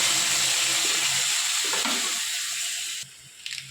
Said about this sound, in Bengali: সেই বাটা মশলাটাই তেলের মধ্যে দিয়ে দেবো